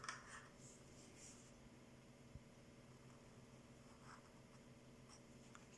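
A calligraphy pen draws a diagonal stroke on paper while forming a uncial star, a very faint scratchy rasp of nib on paper against a quiet room hum.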